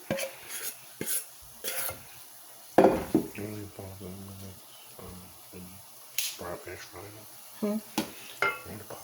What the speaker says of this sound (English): When I finish frying them.